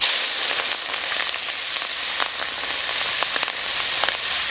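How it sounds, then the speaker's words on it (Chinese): Ginger, garlic and bird's eye chili sizzle in hot oil in a wok, a steady close crackling fry with small pops and no talk. "油温烧热，下入姜、 蒜、小米椒。"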